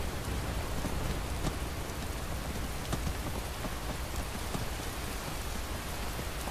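Steady, dense rainfall in Skyrim with a constant hiss and scattered droplet ticks, loud and continuous without any voices.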